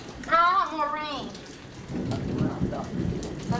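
Rain falls steadily on surfaces outdoors at a home eave, a soft continuous patter that swells after someone speaks in a sing-song voice at the start.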